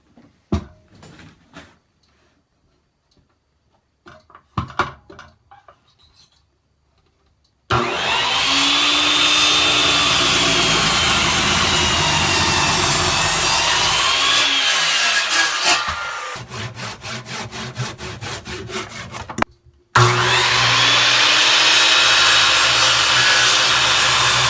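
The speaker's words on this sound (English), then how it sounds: "we're going to finish that off with a flat disc on a grinder" An angle grinder fitted with a flat disc shapes the radius of a wooden bench, loud and close with a sustained roaring whine and a couple of short cuts; quieter tapping and handling come before it starts.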